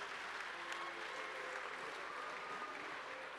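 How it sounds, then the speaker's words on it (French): Audience applause for a politician at a MEDEF summer university event in France, a continuous even patter of many hands clapping at a low, distant level throughout. "Merci Marie-Noëlle Lienemann, je vous demande de l'applaudir."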